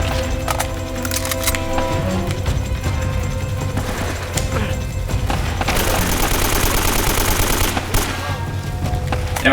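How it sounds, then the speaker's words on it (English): Rapid gunfire in Uncharted: Drake's Fortune, bursts of automatic shots and cracking impacts over a steady game background, loud and continuous with brief pauses. "In regards to how the shooting feels here"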